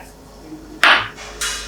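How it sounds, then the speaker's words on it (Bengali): Water is added to a kadai of simmering potol curry, giving two short, bright, hissing splashes over a quiet, low kitchen background. "আর একবার পুরো রান্নাটাকে একবার ভালো করে মিশিয়ে নিয়ে আমি জল অ্যাড করছি।"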